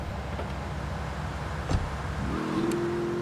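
Car engine driving in Grand Theft Auto III, a steady mid-low engine drone that shifts into a rising revving tone near the end, with a brief thump partway through.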